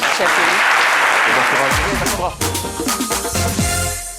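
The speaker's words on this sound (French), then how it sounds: "Nous allons accompagner par des applaudissements Mme Koné Alimata." Audience applause for Mme Koné Alimata on a midday TV programme, a full burst of clapping at first that thins as a presenter's voice and music come in over it.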